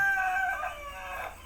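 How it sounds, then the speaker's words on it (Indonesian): A rooster crows nearby in a single drawn-out call, harmonic and fairly loud, fading toward the end over faint room noise. "ada ayam berkokok"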